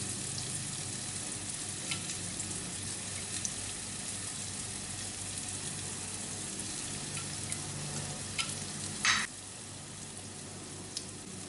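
Garlic and onions with turmeric, anise seeds and salt sizzle and crackle steadily in a hot pan, with occasional scraping and clinks from stirring.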